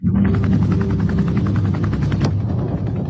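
A helicopter heard in played-back footage of an ice wall: a loud, constant low rotor roar with rapid blade chop throughout, dominating the whole stretch.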